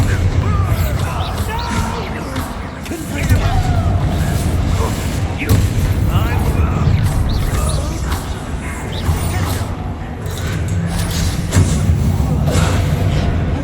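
A Bombarda spell in the Hogwarts Legacy video game sets off loud booming crashes and thuds amid a busy battle din, with game voices speaking over the dense mix.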